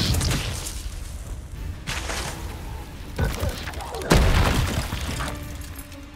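A Confringo fire-blast spell exploding in the video game Hogwarts Legacy: loud booming bursts with crackling, shattering debris, several blasts in quick succession over continuous game ambience.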